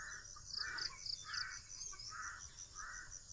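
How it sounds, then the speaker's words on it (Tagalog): Crows caw in short repeated bursts, four or five calls at moderate distance over a farm in the Philippines, with a steady insect or bird drone underneath. "Araw-araw yan may uwak dito, paikot-ikot."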